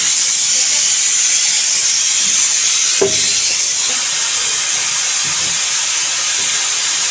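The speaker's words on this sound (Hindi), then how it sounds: "कुकर मार रहा है हमें सीटी।" A loud, steady high hissing whistle of a pressure cooker venting steam throughout, with a brief clatter partway through.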